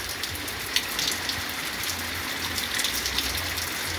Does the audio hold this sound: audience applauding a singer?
no